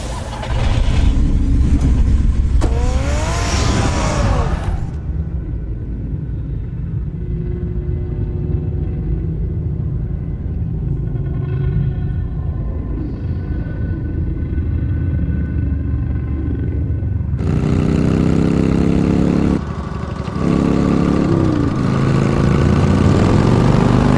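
The Batmobile's engine in Batman: The Telltale Series, a loud sustained low rumble and roar that eases to a steadier hum mid-way before surging again, heard alone without voices.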